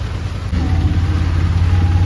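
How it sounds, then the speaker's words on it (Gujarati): Heavy rain pours down around an auto rickshaw, heard from inside as a loud, continuous roar with a low rumble beneath it. The downpour grows slightly louder partway through, with no talking. "ગાઈસ જેવો વરસાદ કેટલો ચાલુ થઈ ગયો"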